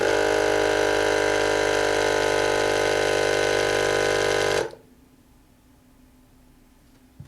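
An air pump runs steadily and loudly with a droning motor hum while inflating the rear tire of a HiBoy x300 electric scooter, then cuts off abruptly, leaving near silence and a faint click.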